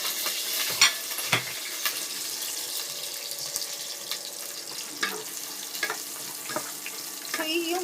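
Ensalada ampalaya leaves and other ingredients dropped into hot oil previously used to fry chicken, giving a steady sizzle with scraping stirs and occasional clatters close by.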